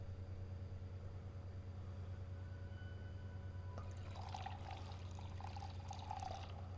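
Water pours and splashes in a faint trickle over a steady low hum, starting partway through and running for a few seconds with no speech.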